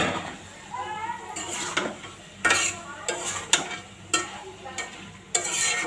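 Chopped tomatoes with spices are stirred in a pan for noodles, a spatula scraping and clinking against the metal in repeated sharp strokes over a soft sizzle.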